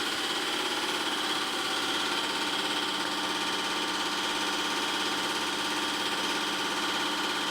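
A car engine fitted with DNR Customs UCC 2022 injectors runs at a steady, even drone, a constant hiss-laden hum with no change in pitch and no voices.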